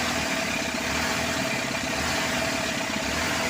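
A Isuzu C240 diesel engine idles fast right after starting, a steady loud mechanical chug with constant vibration and no speech.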